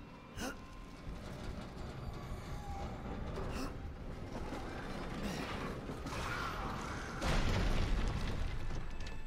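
Bombs going off in Resident Evil 7 on PC, several heavy booms spaced a few seconds apart over a continuous rumbling, mechanical background, the last blast loudest and lingering.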